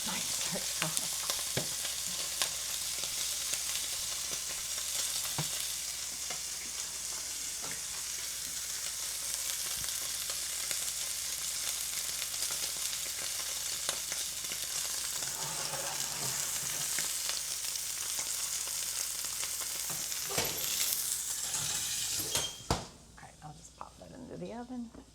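Steak sizzles and fries in a pan for a home steak dinner, a steady close crackling hiss that runs unbroken for most of the clip before cutting off near the end, with a few soft handling knocks.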